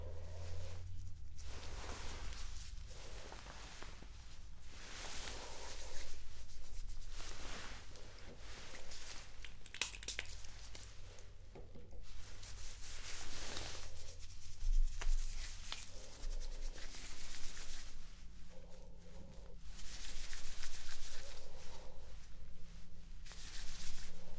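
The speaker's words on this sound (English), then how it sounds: "Just wiped away some of that dead skin that I scraped." Soft scraping and wiping on facial skin during an ASMR dermatology face exam: intermittent close rubbing strokes in bursts, quiet and intimate, with no talking.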